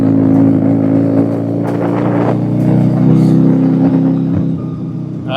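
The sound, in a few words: rotary engine car running and revving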